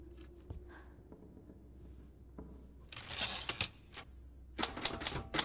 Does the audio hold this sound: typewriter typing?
yes